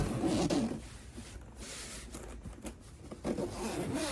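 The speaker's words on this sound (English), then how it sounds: "isn't even hard to zipper up" A zipper rasps along a hard carrying case for a Steam Deck or ROG Ally handheld, in short scraping pulls, close and fairly quiet, with brief pauses between strokes.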